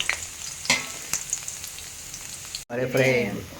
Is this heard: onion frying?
yes